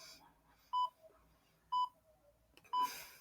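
A timer signals its end with three short, evenly spaced electronic beeps about a second apart, clear and close over a quiet background.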